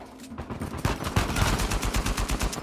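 Rapid bursts of heavy-recoil gunfire crack out in a chaotic Uncharted 4 firefight, loud, close shots in a quick rhythmic string that build steadily, with no talk over them.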